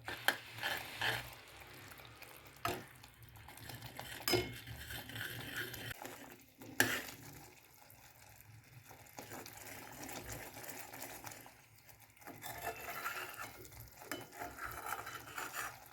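Ginger barfi mixture cooked with milk is stirred in a pan as it thickens, a quiet, continuous scraping with occasional louder knocks, faint and close, without any talking.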